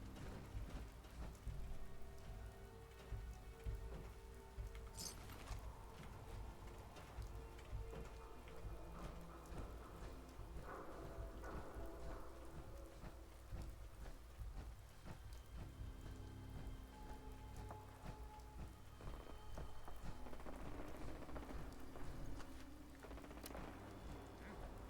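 Continuous rain in the video game Fallout 4 pattering on surfaces, steady and fairly quiet, with faint murmuring voices and occasional clicks in the background.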